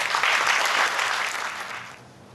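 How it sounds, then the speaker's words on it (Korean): A congregation at an early-morning prayer service claps to welcome a guest pastor, a brief burst of steady applause that tapers off quickly. "우리 박수 치면서 환영해 주시면 감사하겠습니다"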